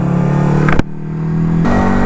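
A Yamaha Virago XV125 125cc V2 chopper motorcycle engine hums loudly and steadily while riding, with a brief gear-change dip before the engine note pulls back up.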